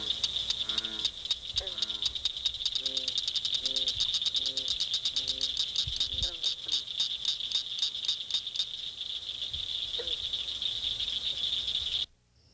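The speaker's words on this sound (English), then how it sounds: "we have taken the liberty of cutting in some footage of an adult cricket frog" Repeated clicking calls of an adult cricket frog ring out in quick series, rising and falling over a constant high insect trill, with a bullfrog calling deeper in the background.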